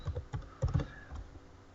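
Typing on a computer keyboard: a quick run of close, distinct key clicks in uneven bursts, some louder than others, with a short pause between groups.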